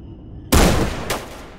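A shotgun fires in S.T.A.L.K.E.R.: Shadow of Chernobyl with the Prosectors Project 1.6 mod: one loud, close blast that rings out, then a second, weaker crack about half a second later.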